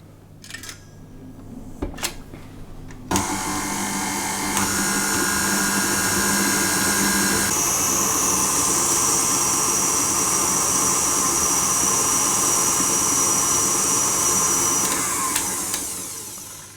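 An electric mixer creams butter and sugar for coconut cupcakes, starting after a few clicks and then whirring loudly and steadily, its pitch shifting as the speed changes, before winding down near the end.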